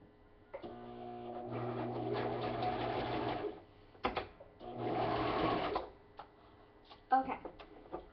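A sewing machine running a straight stitch in two long bursts of steady whirring with short pauses and clicks between, close and clear with no talking.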